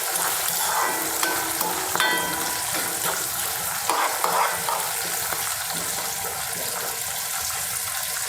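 Kanthari chillies fry in a pan of oil for gooseberry pickle, giving a steady close sizzle with soft stirring scrapes and faint clinks throughout.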